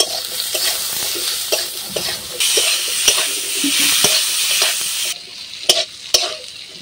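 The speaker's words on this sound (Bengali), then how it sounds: "এরপর ভালো করে নাড়িয়ে আমি ভেজে নিব।" Steady sizzling of pointed gourd frying in a pan, with repeated scraping stirs and a few sharp clinks of a spatula near the end.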